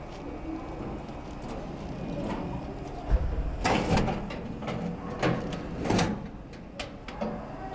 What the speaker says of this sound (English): before we put this drawer all the way in, we are going to hook this up.